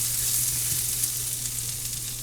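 Spices sauté in a pan for a pantry beef curry, giving a close, dense, unbroken sizzle with faint stirring underneath.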